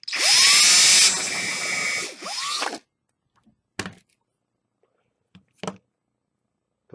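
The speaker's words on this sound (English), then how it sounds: "get your pliers, hold it nice and tight, get your 4mm drill" A 4mm drill bit whines loudly through a small part held tight in pliers for a few seconds, then stops, followed by a few faint knocks and taps in the quiet afterward.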